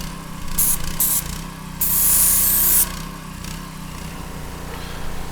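A Harbor Freight 3 GPM gas pressure washer hisses steadily through a narrow-spray nozzle over a droning engine, with several sharp bursts of spray cutting in, one longer blast in the middle.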